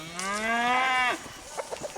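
A cow gives one long, loud, near moo on a farm at feeding time in the morning, followed by a few faint scattered farmyard sounds.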